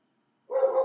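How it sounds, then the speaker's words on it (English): Dogs bark loudly in the distance, a single short burst of barking that starts abruptly after a moment of silence. "Dogs are barking pretty loud right there."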